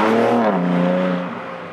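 BMW X4 M Competition, a 2020 510 hp SUV, pulling hard under acceleration: a loud, close engine note climbing steadily in pitch, easing slightly as it shifts, with no talk over it.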